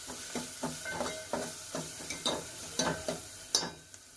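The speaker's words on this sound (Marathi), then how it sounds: "आता मी अद्रक लसूणची पेस्ट आहे ना तर ती टाकून घेते ती पण चांगलं आपल्याला लसणाचा वास जाईपर्यंत परतून घेऊ" Ginger garlic paste sautéed with onion in a pan: a faint, steady sizzle broken by regular spatula scrapes roughly every half second, close by and alone without any voices.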